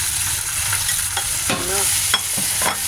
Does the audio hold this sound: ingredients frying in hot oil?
yes